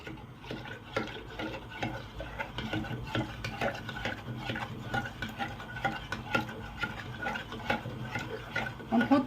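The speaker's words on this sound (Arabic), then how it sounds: "ونقلبهم كويس جدا اهو" Rice pudding mixture with fruit and biscuits being stirred in a bowl, a close, continuous run of soft scraping and wet sloshing strokes in quick, uneven rhythm.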